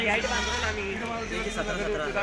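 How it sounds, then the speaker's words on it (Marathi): Goats, including Kathiawadi and local breed goats and bucks, bleat repeatedly at a busy, noisy goat market, with someone talking over the animal calls throughout. "इकडं बोकड आलेले आहेत बघा मित्रांनो"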